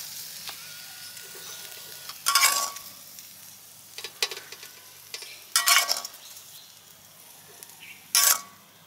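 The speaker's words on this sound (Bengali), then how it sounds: "পনির হালকা ভেজে নেব" Paneer lightly frying in oil in a pan: a soft steady sizzle, broken every second or two by sharper bursts of spatter and scraping as the pieces are stirred and turned, with no talking.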